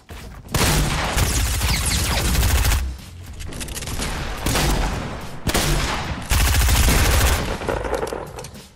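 Gunfire in the video game Fortnite: loud, rapid automatic bursts in three long volleys with brief pauses between, close and dominating, no talking over them.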